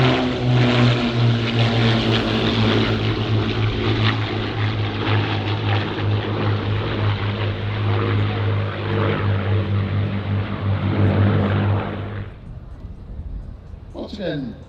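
A Supermarine Spitfire fighter roars past with a loud, steady propeller-engine drone that holds for about twelve seconds and then drops off sharply.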